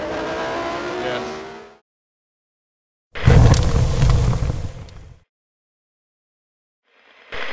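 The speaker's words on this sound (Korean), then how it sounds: "Alain Prost can see the McLaren Honda of Senna big in his mirrors" A McLaren Honda Formula 1 car on track roars in loud, abrupt bursts, with a long engine blast in the middle, a brief one at the end, and dead silence in between.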